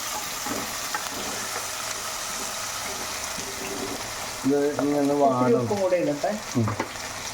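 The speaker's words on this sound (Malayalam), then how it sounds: "നമ്മുടെ കടുകും ഉലുവയൊക്കെ പൊട്ടിയിട്ടുണ്ട് അതിലേക്ക് ഞാൻ ചതച്ച് വെച്ചിരുന്ന ഐറ്റങ്ങളൊക്കെ ഇട്ട് കൊടുത്തു" Crushed spices dropped into hot oil with popped mustard and fenugreek seeds, a steady close sizzle with light stirring, then a voice talks over it for the last few seconds.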